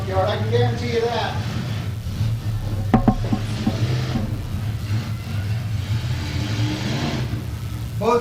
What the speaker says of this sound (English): Listen to those engines. They didn't come out of a junkyard.